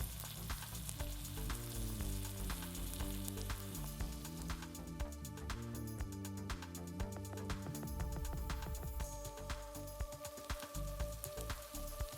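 Ground masala hits hot oil already crackling with cumin, mustard seeds and curry leaves for a potato bhaji, giving a continuous, close sizzle with fine popping and no talk over it.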